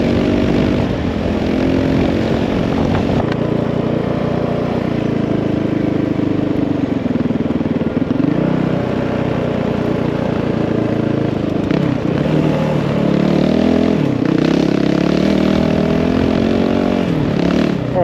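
A 2022 Honda CRF450RL dual-sport motorcycle riding on a paved road in second gear: a loud, steady single-cylinder engine drone with slight shifts in pitch as the throttle varies, close and continuous.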